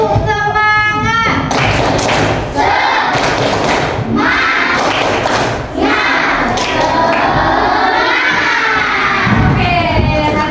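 A classroom of children does a rhythmic spirit clap together, loud sharp claps in bursts mixed with chanting young voices and shouts, close and lively throughout.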